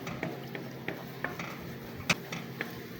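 Scrambled eggs made from three eggs are stirred in a pan, with light scrapes and taps of a utensil against the metal, close by, at an irregular pace and with one sharper clink.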